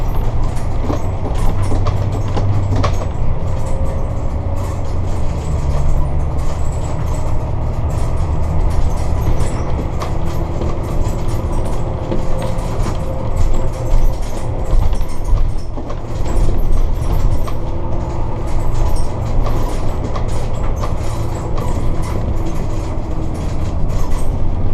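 A diesel Sportscoach motorhome accelerates gently on the road, a steady, loud low rumble of engine and road noise rolling on continuously throughout, with faint rattles and no talking.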